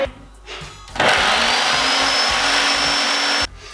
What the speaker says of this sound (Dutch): Dus daarvoor gebruiken we de blender.